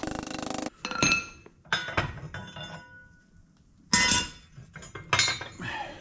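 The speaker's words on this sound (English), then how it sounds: "I've got to knock the rest of it down with the hammer" Sharp metallic hammer strikes ring out as a pin is knocked from the front axle spindle of a 1952 barn door ambulance, several ringing blows in irregular bursts with quiet pauses between, close and clear.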